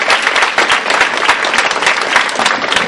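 Steady, dense applause from a banquet audience honoring an award recipient, many hands clapping loudly and continuously throughout with no voices over it.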